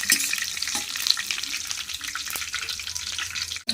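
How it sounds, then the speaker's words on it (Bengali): Whole cumin seeds, dried red chillies and bay leaves frying in hot oil for a mutton curry, a steady close sizzle with crackling spits throughout, briefly cut near the end. "জিরে শুকনো লঙ্কা লাল লাল করে ভাজা হয়ে যাক"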